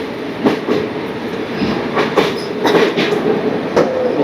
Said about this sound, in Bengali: অবশেষে আমরা ক্রস করছি মহানদীর ওপর অবস্থিত সেতু।